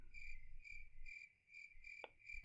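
A slightly leveled cricket pet in a video game chirps steadily in evenly spaced, bright pulsing bursts, with a brief click partway through and no voices.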